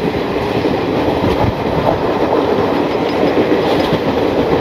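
The Kanchankanya Express crosses the Sevoke bridge over the Teesta river with a loud, steady roar and rolling clatter of wheels on track, heard from on board, continuous throughout.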